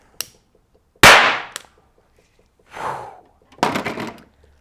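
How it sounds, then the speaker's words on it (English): A very loud, sharp bang from a small amount of hydrogen-oxygen gas igniting in soapy water, a single close explosive crack that decays quickly, with a few fainter clatters and thumps around it. "That was a very tiny volume of gas for a very loud bang"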